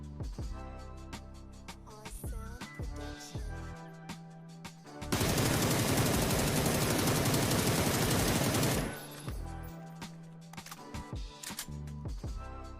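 A full magazine of automatic gunfire from the PUBG video game unloads in one dense, continuous burst lasting a few seconds, loud and sharp. Quieter clicks and handling noises come before and after.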